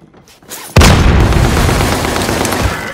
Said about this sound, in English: Tossing a frag.